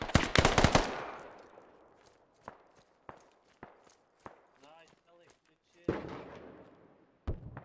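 Gunfire in Squad across a river valley battle: a loud burst of automatic fire up front, then scattered single shots and distant cracks spaced over several seconds, with another sharp burst near the end.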